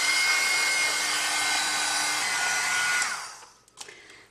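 A hair dryer blows steadily at close range over wet watercolor paper for about three seconds, then switches off and winds down, leaving a few faint clicks and handling sounds.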